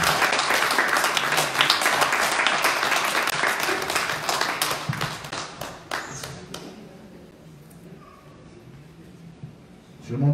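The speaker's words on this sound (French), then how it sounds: "On peut acclamer Jésus." A church congregation applauds and cheers for Jesus during a worship service, dense clapping loud and sustained for several seconds before thinning out into scattered claps and quiet room noise.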